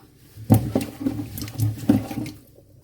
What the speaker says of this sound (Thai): ล้างเข้าไปด้านในด้านนอก แล้วก็จะแช่ไว้นะคะ